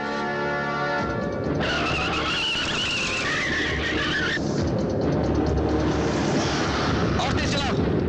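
A car speeds along with a loud, sustained engine roar and road noise. Tire squeals and rushing wind rise and fall, and voices and other scene sounds mix in.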